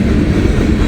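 A long train rolls past a railroad crossing, a loud, close, steady low rumble of wheels on track filling the short moment without a break.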